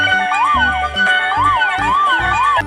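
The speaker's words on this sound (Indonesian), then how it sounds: "Ini ada mobil pemadam kebakaran." A red toy fire truck sounds a loud, close electronic siren with a repeating wailing sweep and a beat of looping music under it, alone with no talking.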